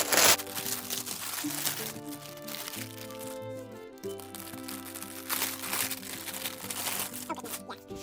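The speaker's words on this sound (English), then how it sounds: "excuse the crinkling" Plastic packaging from a cross-stitch craft haul crinkles and crackles in short bursts close by, layered over background music.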